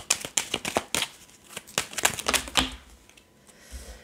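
Tarot cards are shuffled and handled in a fast, crisp run of riffling clicks and slaps, thinning out toward the end, with a few softer taps as cards are laid down.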